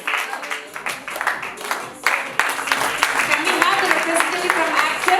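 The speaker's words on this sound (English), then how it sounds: "A loud round of applause for the runners up." Audience applause at a corporate cricket league prize ceremony for the runners-up, a broad crowd clapping that swells and continues steadily, with voices talking over it.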